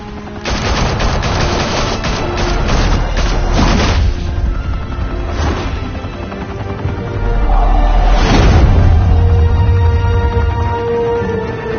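Dense bursts of gunfire and booming explosions from a Batman video game on PS4, loud and continuous with rapid rattling volleys and heavy blasts, a small swell of blasts near the end.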